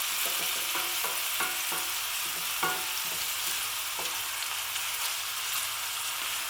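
Madras curry paste sizzles steadily in plenty of hot oil in a pan, a constant close hiss broken by several light scraping stirs, with no voices.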